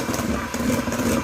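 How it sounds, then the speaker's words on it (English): An electric mixer whirs as it beats two cups of whipping cream toward stiff peaks, a steady buzzing drone with a slight wavering pulse, close and fairly loud. "So I have here 2 cups of whipping cream. Let's beat it until stiff thick."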